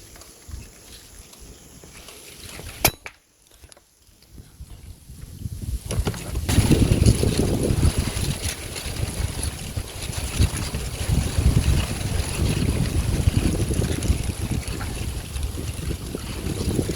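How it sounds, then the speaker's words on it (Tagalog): Gusty wind blowing outdoors during a dove hunt with a compact .22 air rifle, a steady loud rushing roar building after a brief lull and persisting throughout. "Mahangin."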